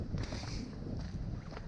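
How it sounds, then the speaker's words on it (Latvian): Wind rising outdoors as light snow begins to fall in early spring, a steady, rough, gusty rush that fills the whole clip with no voices over it. "Neliela pļura, vējiņš pacēlās."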